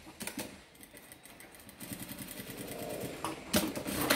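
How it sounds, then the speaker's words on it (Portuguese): A sewing machine stitches a label onto a small fabric pouch in short bursts of rapid mechanical clatter, quiet and close, with brief pauses between runs. "E vou pregar a minha lapela aqui, ó. Uma costurinha de segurança só."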